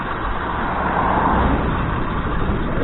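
A motorbike engine idling close by, a steady low rumble and hum at a constant level with no revving, heard without any talk.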